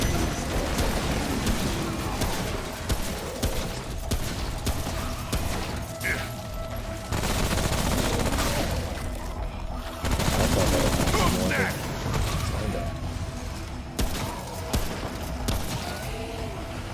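A gun in the video game Remnant fires in bursts amid dense game action and rumble, with shots heard repeatedly through the scene over steady background noise.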